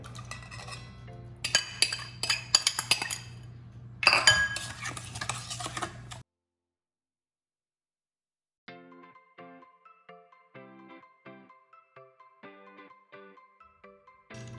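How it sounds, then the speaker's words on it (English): A utensil clinks and scrapes against a bowl while oil, sugar and yogurt are mixed for an eggless marble cake, bright rapid taps up close, then silence, then lighter rhythmic clinking. "I'm going to mix some oil and sugar"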